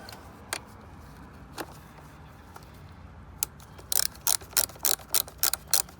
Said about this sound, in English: we'll go ahead and follow up with our 10mm ratchet